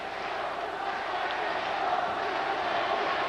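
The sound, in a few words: gymnastics arena crowd cheering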